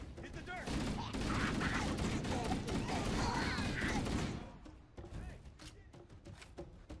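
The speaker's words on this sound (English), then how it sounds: "Go towards the gunfire." Gunfire in the Halo video game, rapid bursts and volleys of shots with mechanical clanks, loud for several seconds and then fading into scattered, quieter shots.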